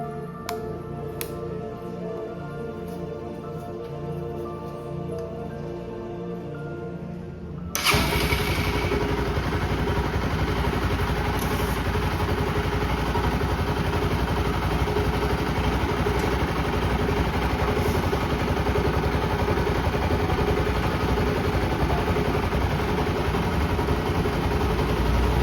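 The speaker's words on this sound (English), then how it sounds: "Let's see if the bike even starts." A rebuilt KTM NS200 motorcycle engine cranks and catches after a quiet stretch, then idles loudly and steadily for the rest of the clip.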